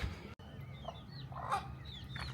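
Chickens with little chicks cluck softly at a roadside spot on the way to a farm area near Lake Bacalar, a few scattered short calls over steady outdoor background noise.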